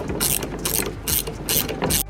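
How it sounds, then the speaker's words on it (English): Ratchet wrenches cranking down the bolts of a spring compressor on a G37's front coil spring: quick bursts of loud, rapid clicking, about five ratchet strokes in steady rhythm, close by with no talking. "Now I'm just going to tighten down the ends to compress the spring. Ratchets, which make the job a little bit easier."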